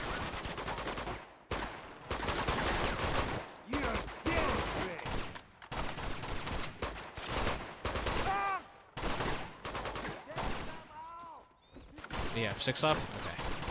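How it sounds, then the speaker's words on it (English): Gunfire and heavy weapon blasts, including grenade launcher shots, in an Uncharted 2 battle. Bursts of shooting and explosions come in rapid clusters with short gaps, loud and close, mixed with game dialogue and a commentator talking over it. "Shooting at me, grenade launchers"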